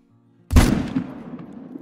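A single loud rifle shot fired at a pronghorn in theHunter, a sharp close crack followed by a long rolling echo that fades out over the next second.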